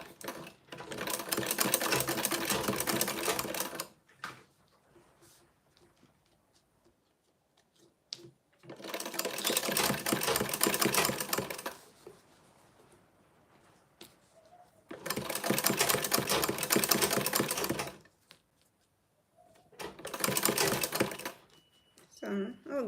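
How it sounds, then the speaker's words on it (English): Domestic sewing machine back stitching a zipper, running in four loud, rapid-stitching bursts of a few seconds each, separated by quiet pauses with faint talk. "I'll back stitch there."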